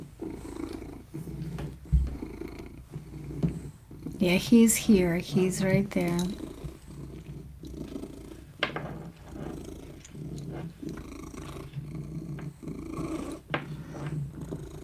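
A pet cat purrs close by in soft, rhythmic rumbles while someone talks warmly over it, with a brief louder, wavering cat vocalisation in the middle.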